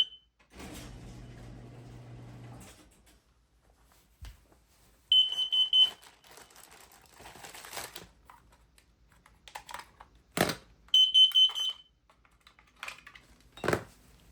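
A carbon monoxide alarm from a SimpliSafe Gen 3 home security system chirps in short high-pitched bursts, separated by clattering, bumps and handling noises nearby.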